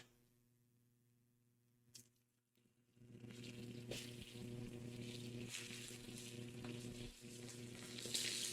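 Sweet Vidalia onions go into a very hot pan. After a quiet start and a brief knock, a loud, steady sizzle bursts in and continues, close and unbroken, with occasional small crackles and no talking.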